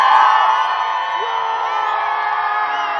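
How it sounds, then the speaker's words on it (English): A crowd of Blue Origin employees cheers and whoops during the New Glenn rocket launch, a sustained, loud wall of voices that holds steady for a few seconds. "this crew behind me, they've committed to cheer more loudly than the BE4s"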